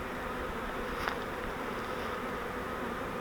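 A swarm of honeybees being handled during a swarm trap transfer gives off a steady, faint, diffuse buzz throughout, with no talking.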